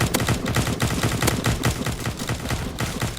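Rapid gunfire from the online video game The Resistance Tycoon, a dense stream of loud repeated shots firing continuously for several seconds with no talk over it.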